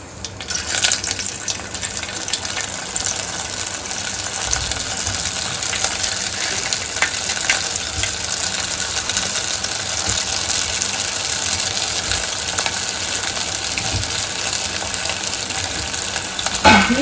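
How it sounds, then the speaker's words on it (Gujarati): Continuous loud sizzling of bati dough balls frying in hot ghee, a steady bubbling hiss with no talking. "બાટીને તળવા માટે આપણે ઘી લીધું છે"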